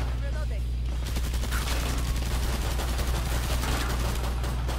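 Video game gunfire in a chaotic fight, a dense continuous rattle of shots over a steady low rumble, fairly loud and unbroken throughout.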